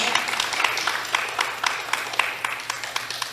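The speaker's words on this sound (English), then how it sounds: "If y'all will join me in giving them a round of applause for joining us." A crowd at a school parent meeting claps in a steady patter of applause, moderately loud and sustained, with individual sharp claps standing out throughout.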